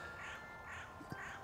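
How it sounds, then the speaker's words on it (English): Crows caw in a cemetery, three drawn-out calls spaced evenly across a quiet outdoor background, moderately distant and alone without talk. "we'll listen to the crows in the background as always."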